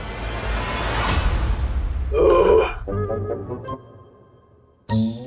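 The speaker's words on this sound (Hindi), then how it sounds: "क्या हुआ? डकारी तो दी थी।" A loud, gurgling burp from a cartoon-style children's fantasy show erupts midway, followed by a stuttering, rumbling tail. Whooshes come before it, and a short voiced sound cuts in at the end.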